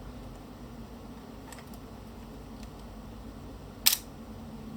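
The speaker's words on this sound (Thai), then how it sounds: "เดี๋ยวผมจะเทสในส่วนของ Speed Shutter นะครับ เดี๋ยวจะเริ่มจาก Shutter B นะครับ" An Olympus OM-2 film camera fires its shutter on the B setting, a single sharp mechanical click preceded by a couple of faint handling taps against a quiet room hum.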